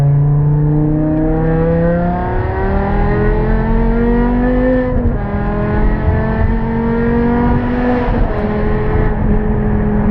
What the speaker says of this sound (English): SMG at the limit, it really is great. It shifts very brutally quick and is very emotional too.